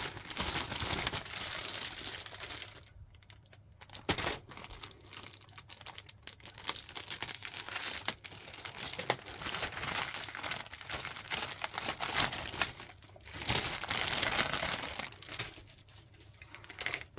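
A plastic bag of parts from an Academy 1/35 M2A2 Bradley model kit is opened up close, with repeated sharp crinkling and rustling in irregular bursts separated by short quiet pauses.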